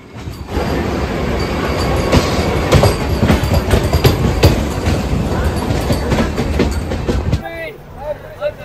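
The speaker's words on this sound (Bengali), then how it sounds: "সামনের এই বন্দে ভারত পুরী থেকে ফিরছে কলকাতার উদ্দেশ্যে।" A Vande Bharat express rushes past close by with a loud continuous roar and rhythmic clatter of wheels on rails, then cuts off abruptly near the end, leaving quieter ambience.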